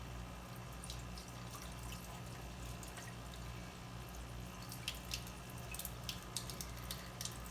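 Water drains steadily from the top couple of inches of a freshwater snail tank, a faint continuous trickle and gurgle with small drips and splashes, and no voices.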